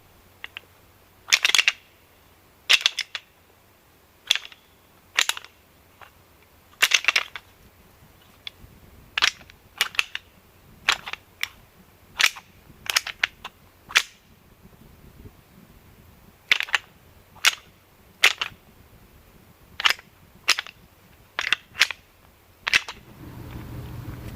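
Sharp, clattering knocks from a deer call imitating fighting deer repeat in uneven bursts, like hard antlers clashing and rattling together, loud and close with brief pauses between flurries.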